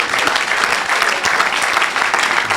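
Applause from a church crowd at an evangelistic service, a dense, steady wash of clapping filling the whole stretch at close range, with faint cheering mixed in.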